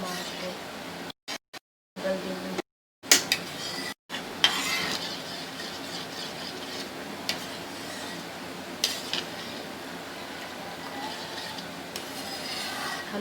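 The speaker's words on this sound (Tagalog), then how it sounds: "Halu-haliin din lang para hindi siya masunog." A spoon stirring tomato sauce for mac and cheese in a pan, soft repeated scraping and rubbing with a faint sizzle, interrupted by short gaps and heard under occasional speech.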